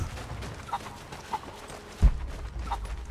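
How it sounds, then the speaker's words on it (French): Chickens clucking in the video game Rise of the Tomb Raider, a few short, separate clucks at a close, moderate level over a low ambient hum, with a soft thump partway through. "La poule elle est docile hein."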